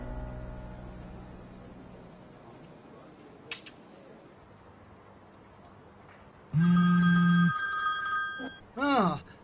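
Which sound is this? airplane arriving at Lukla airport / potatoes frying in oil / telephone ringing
telephone ringing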